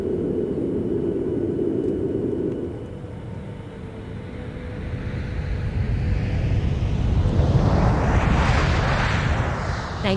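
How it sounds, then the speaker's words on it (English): Airliner cabin noise during a landing: a steady low engine rumble dips briefly, then swells into a louder, broadband roar near the end as the aircraft touches down and the engines spool up, with no talking. "Passengers, please prepare for landing."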